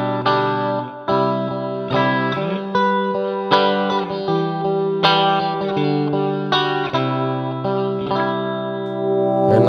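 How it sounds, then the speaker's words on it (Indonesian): Electric guitar chords ringing through a pedalboard routing with a wide, lush reverb, each strum blooming and sustaining into the next across nearly ten seconds, loud and unaccompanied by talk. "gila nih reverbnya enak banget, lebar banget coy"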